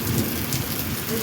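Heavy rain pours steadily in Saudi Arabia during a storm, a dense continuous hiss with low rumbling beneath it, suggesting thunder rolling in the distance.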